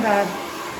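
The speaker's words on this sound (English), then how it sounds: "you chase the brush with the blow dryer" Blow dryer blasting a steady airy whoosh while drying coarse curly hair, close and fairly loud, briefly stronger at first and then holding even.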